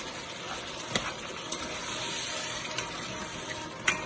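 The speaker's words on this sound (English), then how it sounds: "The next thing is to add your coconut milk." Coconut milk, about a cup, pours into a pot of coconut curry spinach soup (efo riro), a steady liquid gush with faint sizzling underneath and a few soft clinks.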